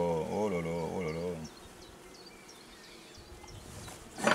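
Honeybees swarming around an opened Kenyan top-bar hive, a loud close droning hum for the first second and a half, then a quieter steady buzz with faint high chirps.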